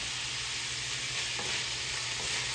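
Sausage, peppers and onions frying in a pan give a steady, close hiss of sizzling, with no voices over it.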